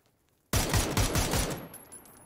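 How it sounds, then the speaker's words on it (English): Automatic gunfire in the video game PUBG breaks out suddenly after a quiet moment, a loud rapid burst of shots that then trails off. "Oh, thanks for letting me shoot them, Nacho."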